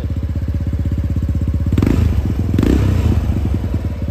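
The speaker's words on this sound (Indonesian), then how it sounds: "Ya untuk knalpot nih pakai Bipro. Ini suaranya adem banget nih, ngebas banget suaranya." A Yamaha Mio scooter with a bored-up engine and Bipro aftermarket exhaust idles with a deep, bassy, evenly pulsing thrum, then blips the throttle twice, each rev swelling briefly before settling back to a steady close-up burble.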